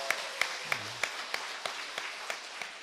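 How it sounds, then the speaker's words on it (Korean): A church congregation claps together during a Sunday worship service for a member just discharged from military service. The claps are crisp, evenly spaced and rhythmic, and they fade slightly as they go on. "박수 하겠습니다."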